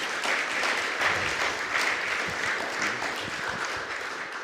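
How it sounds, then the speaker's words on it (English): An audience gives a round of applause after a business presentation, a dense, even wash of clapping that holds steady at moderate loudness for a few seconds. "Round of applause."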